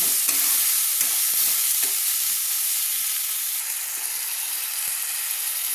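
Spice paste with ground ginger and garlic frying in oil for an egg and pointed gourd curry, a loud, continuous bright sizzle with intermittent stirring scrapes, no talking.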